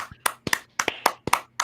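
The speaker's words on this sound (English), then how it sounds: "Give this man an applause." Scattered hand claps after a call to applaud someone on a farewell send-off, about a dozen sharp close claps in uneven bursts rather than a full crowd roar.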